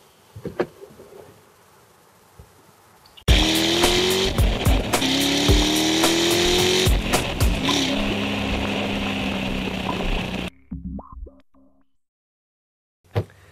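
A 2010 BMW X6 xDrive35i SUV engine starts and runs loudly, revving and shifting with rising whine for several seconds, then cuts out to near silence.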